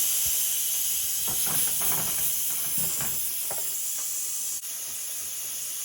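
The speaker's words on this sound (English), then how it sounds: "Just be very careful when you're releasing the pressure because that pressure valve" Steam releasing from the pressure valve of an Instant Pot after cooking spaghetti, a loud continuous hiss that stays strong throughout and dips slightly near the end, with faint clatter underneath and no talking.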